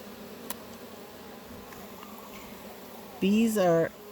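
Honeybees buzz in an open hive as a faint, steady drone in the background, with a short voice sound rising over it near the end.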